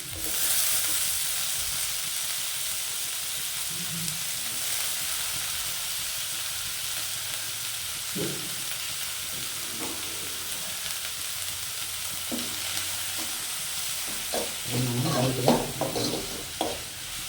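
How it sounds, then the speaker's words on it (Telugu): Cabbage and onions are stirred and fried lightly in a pan, with a steady low sizzle throughout and scattered scraping stir strokes that grow busier and louder toward the end. "లైట్గా కలుపుకోవాలి, ఫ్రై చేసుకోవాలి లైట్గా."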